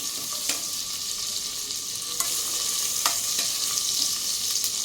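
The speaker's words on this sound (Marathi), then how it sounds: "थोडासा लसूण आता परतून घेते मी" Garlic frying in hot oil in a pan for an Aagri-style mutton paya curry, a continuous bright sizzle with occasional soft clicks of stirring, close and steady without talk.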